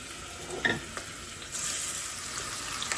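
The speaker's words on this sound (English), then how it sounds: "Listen to that sizzle." Chicken sizzles and fries in a pot for a Louisiana sticky chicken recipe, a soft steady crackle with a few stirring clinks and a rise in sizzle midway.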